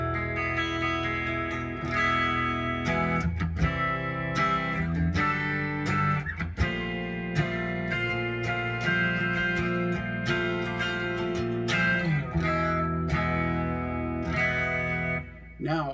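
A PRS SE McCarty 594 electric guitar played through a clean amp channel, ringing chords and single notes with a steady sustained tone, some chorus-like shimmer and reverb, playing continuously and alone for the whole stretch.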